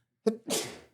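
A single close, loud human sneeze: a short sharp intake followed by a breathy burst that fades out, alone without speech.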